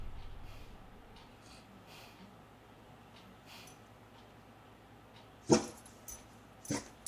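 A dog in a house gives a couple of short, sharp barks late on, loud against an otherwise quiet, hissy room with faint distant sounds.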